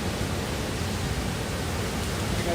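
Strong gusty winds from Typhoon Pepito (Man-yi) sweep through the town of Baler in the Philippines, a dense, steady roar of broadband noise that stays loud throughout without any voices.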